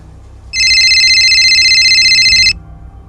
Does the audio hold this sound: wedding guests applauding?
no